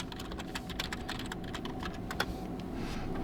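Rapid keystrokes on a computer keyboard as an email address and password are entered for a Garmin account login, a steady run of close, crisp clicks with a few louder taps, no voices.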